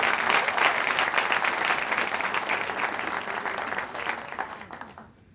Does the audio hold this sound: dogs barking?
no